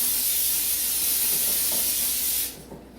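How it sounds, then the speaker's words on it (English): Non-stick cooking spray hisses steadily from a can onto a 10 by 14 baking dish, a close, continuous high spray lasting a couple of seconds before cutting off abruptly. "I'm going to spray this is a 10 by 14 baking dish with non-stick spray."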